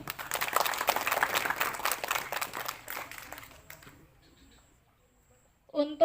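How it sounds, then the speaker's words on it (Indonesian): Students at an outdoor Heroes Day ceremony clap together for a few seconds before the applause fades to near silence, then a voice speaks briefly at the end. "Boleh tepuk tangan buat kita semua?"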